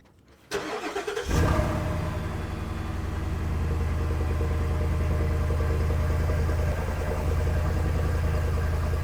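A Ford Super Duty with a 6.2L or 7.3L engine and an MBRP 4-inch single cat-back exhaust fires up nearby and briefly revs. It then settles into a loud, deep, steady idle with no talking.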